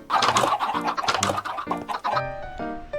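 Several chickens cluck and squawk in a Minecraft chicken farm, a dense run of bird calls stacked close together and fairly loud throughout, with no talking.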